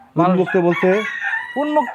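A close chicken call from exotic or fancy breed chickens, a few drawn-out crowing or clucking notes in quick succession, loud and clear with nothing else around.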